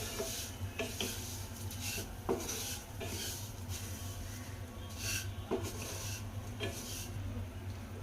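Vermicelli is stirred and roasted in a pan for kheer, with a steady soft sizzle under repeated scraping strokes of a spoon against the pan, close and unhurried.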